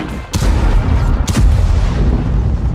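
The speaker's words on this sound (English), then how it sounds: "The gunfire is deafening. Explosions shake the ground." Battlefield gunfire and explosions in a wartime setting, with two sharp loud blasts standing out over a dense, continuous rumble of booming fire.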